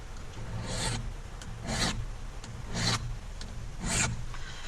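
Hand filing on a metal key blank during a handle lock repair, four even rasping strokes spaced about a second apart, close and steady with no talking.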